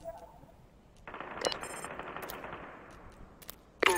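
Gunfire in the video game Super People rattles in a fast burst followed by a long stretch of rapid shots, fairly faint, with a sharper blip near the end.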